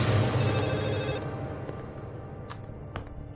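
A telephone bell rings loudly and continuously at first, then fades into a quieter ring with a couple of faint clicks near the end; no one speaks.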